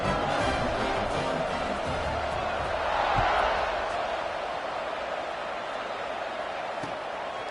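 A college football video game stadium crowd at kickoff, North Carolina at Illinois, producing a steady, dense roar that swells briefly and holds loud throughout.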